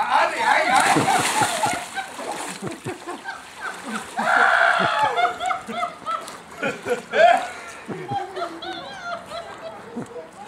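Water sloshing and splashing in a stream, with bursts of splashes and a rushing spray midway, heard close and under frequent excited talking and shouts.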